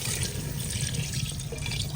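Water pours steadily into a pan of fried potatoes while cooking a traditional Dera Ismail Khan sobat dish, a continuous close hiss and bubbling splash with no pauses.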